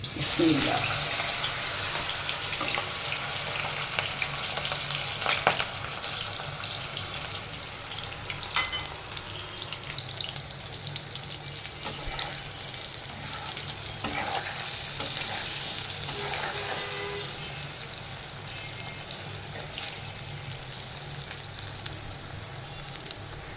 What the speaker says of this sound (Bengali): এখন গরম তেলে দিয়ে দিব গরম তেলে দিয়ে দিলাম